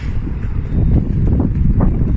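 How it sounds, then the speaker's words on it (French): Gusty wind buffets the microphone outdoors on a walk on a fine evening in Québec, a loud low rumbling roar that swells and dips without any talking. "C'est vrai qu'il y a du vent, mais il fait beau."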